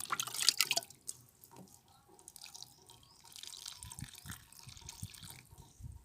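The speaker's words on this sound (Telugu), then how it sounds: "సో ఇలా ఇప్పుడు వాటర్ అయితే ఇద్దాము" Water is poured onto freshly potted rose and croton plants, giving soft dripping and splashing into the soil. It starts with a brief louder pour, then quieter trickles and drips that stay close and faint.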